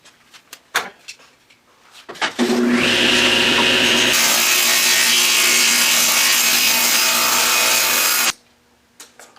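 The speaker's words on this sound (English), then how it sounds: "now I'm going to cut it down to the width of my" A power saw rips into a wooden strip cut from a panel, trimming it to width for box flaps; a loud, steady cutting roar runs about six seconds after a brief spin-up, preceded and followed by small knocks of handling.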